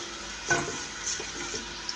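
Soft sizzling of chopped onions frying in oil, with a few light stirring clicks and scrapes.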